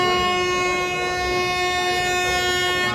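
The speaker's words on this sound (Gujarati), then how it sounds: "ટ્રેન આવી ગઈ." A passenger train pulls into a railway station on the Rajkot to Virpur line, its horn sounding loud and sustained over the rumble of wagons, with no talking.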